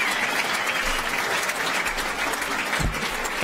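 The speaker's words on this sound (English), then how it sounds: "Give him a round of applause." An indoor crowd at an awards night, the Phelan Mostyn Medal event, claps in sustained, dense applause throughout.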